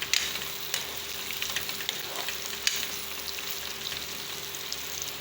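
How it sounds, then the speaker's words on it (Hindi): Carrots and nuts roast on low heat for a beef Kabuli pulao, giving a steady close sizzle with a few light stirring clicks and scrapes over the constant hiss. "इसको हल्की आंच पे रोस्ट करेंगे"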